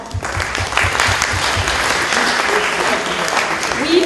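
A conference audience breaks into loud, sustained applause for a symposium panel, a dense steady wash of clapping from a crowd that carries on throughout.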